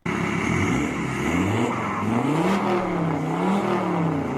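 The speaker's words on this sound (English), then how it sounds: "Alfa Romeo diesel, that's about as foreign as you can get for me." An Alfa Romeo diesel car engine revs loudly and close, its pitch climbing, dipping and rising again in smooth swells with no voices.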